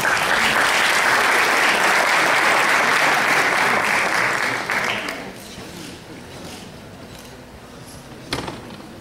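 Dense applause from an audience at an anniversary ceremony at MASP, loud and steady for about five seconds, then dying away to scattered claps and room noise with a brief knock near the end.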